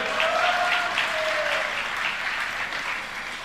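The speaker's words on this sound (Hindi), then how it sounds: "ताली बजाओ रे" An audience at a Jain religious discourse bursts into loud, dense applause that fills the room, gradually thinning toward the end, with a brief tonal voice-like sound early on and no clear speech.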